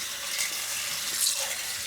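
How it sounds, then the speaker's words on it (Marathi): Chana dal is rinsed under a running tap in a pressure cooker, producing a brief, steady hiss of splashing water close by. "सगळ्यात आधी ही चणा डाळ अर्थातच स्वच्छ धुवून घ्यायची"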